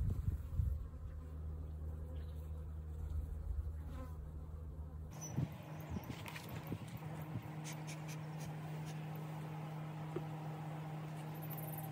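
Bees buzzing near their hive, a steady outdoor insect drone that runs throughout, with a change in background texture partway through and no talk.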